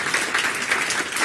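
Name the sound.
audience round of applause at a conference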